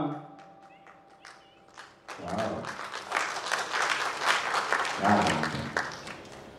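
Applause at an award ceremony honouring Annabhau Sathe in Karad: a few scattered claps at first, then a full crowd breaks into loud, sustained clapping that swells and rolls on to the end.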